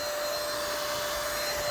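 A cheap battery-powered DeWalt vacuum runs continuously and loudly, sucking up garden pests with a steady high-pitched whine and a constant airflow roar.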